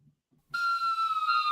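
A whistle tone starts abruptly after a faint muffled thump and holds steady with a slight downward slide, bright and loud, sounding alone.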